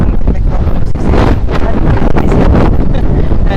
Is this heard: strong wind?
yes